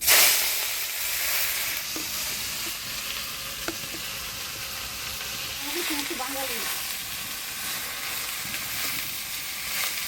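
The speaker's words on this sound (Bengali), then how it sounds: "এবার শাক ভাজা করব তো ফোড়নে দিয়ে দেবো শুকনো লঙ্কা কালো জিরা" Mixed leafy greens fry in hot oil tempered with dry red chilli and nigella seeds, part of a Bengali vegetarian home meal, giving a steady, close sizzle that hisses throughout.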